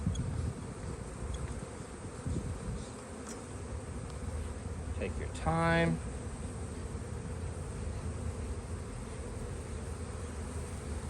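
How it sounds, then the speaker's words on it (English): Honeybees hum around an open brood box during a spring hive inspection, a steady swarm buzz with one bee droning close by for a moment; a person speaks briefly. "Now we're gonna get the bees back in the box."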